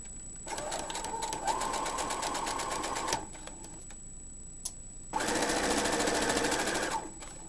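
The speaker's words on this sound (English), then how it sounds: "Sewing machine" A sewing machine stitching a zipper bag runs in two fast bursts of rapid stitching, whirring for a few seconds each with a brief pause between, alongside a constant high whine.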